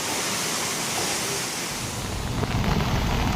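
Strong gale-force wind, like a small storm, roaring continuously during monsoon rain in Saurashtra, Gujarat, with gusty buffeting on the microphone that grows rougher toward the end.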